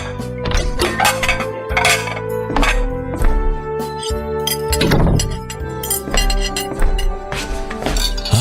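Plates and glasses clink again and again as a table is set for a family meal at home, bright ceramic and glass knocks scattered close by over a busy, continuous clatter.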